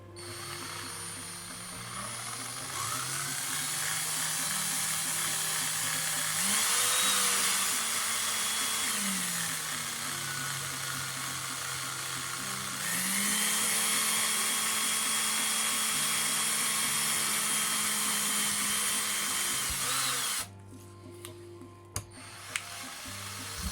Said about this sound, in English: Hold your breath and drill.